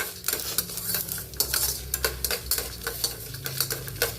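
Urad dal and chana dal roasting in a pan for buttermilk upma, stirred steadily with a utensil, giving repeated scraping and rattling strokes over a soft sizzle, close and alone.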